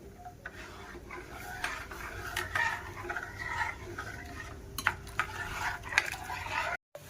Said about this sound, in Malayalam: അപ്പോൾ നമ്മുടെ തൈരിനുള്ളത് ഇതെല്ലാം മസാലകളെല്ലാം കൂടെ തിളച്ച് വന്നിട്ടുണ്ട്